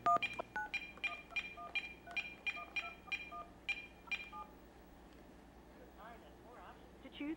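Telephone keypad DTMF tones ring out as a quick series of about ten evenly spaced beeps while someone dials. A voice speaks over and after the dialing.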